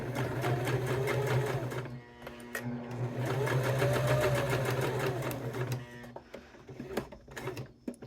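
An electric sewing machine stitches a leather wallet with a loud, steady mechanical whir and rapid needle chatter that stops briefly and starts again, ending in shorter bursts.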